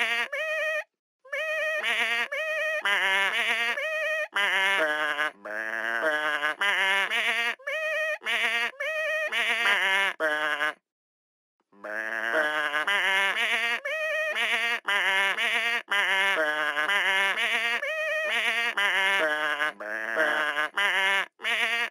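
Sheep bleats from a Hey Duggee children's music game, a rapid sequence of short, musical cartoon bleats at varying pitches, separated by brief silent pauses.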